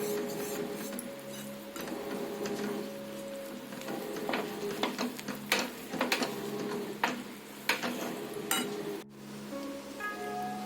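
A spatula stirs rice flour into tomato soup in a pot, scraping and clicking irregularly over a faint background hum, close and moderately quiet.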